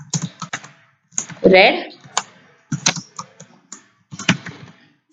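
Keys clatter in short bursts of typing on a computer keyboard during a JavaScript coding lesson, interleaved with a man's spoken explanation.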